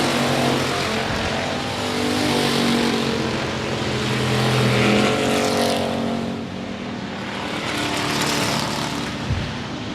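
Race cars roar around the I-37 Speedway oval, their engines a loud, continuous drone that swells and fades as the pack passes down the backstretch and into the turn.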